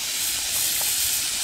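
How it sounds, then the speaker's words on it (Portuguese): Welding the lid onto the side of a copper still (alambique) gives off a steady, close, broadband hiss that swells slightly midway, with no talking. "Estou soldando a tampa na lateral dela"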